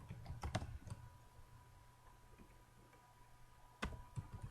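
Keyboard typing during a slideshow presentation lab, with a burst of soft clicks at the start, a quiet gap with a steady hum, then a few more key taps near the end.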